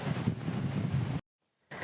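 Wind buffets a helmet-mounted microphone on a windy ride, roaring as a loud low rumble, cutting out briefly to near silence and then returning.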